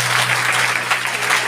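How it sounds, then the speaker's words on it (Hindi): A congregation claps at a church service during a sermon, producing a brief, loud, dense burst of steady applause that fills the room. "क्या इस बात के लिए आप ताली बजा सकते हैं?"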